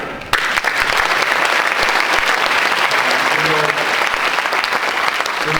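An audience bursts into sustained applause for a speaker at an event in a hall, dense clapping starting abruptly and continuing steadily throughout, loud and close.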